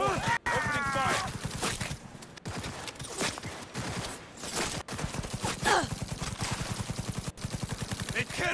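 Dense gunfire rattles through a played clip, with sharp automatic bursts and single shots in rapid, irregular succession, mixed with clamour and voices.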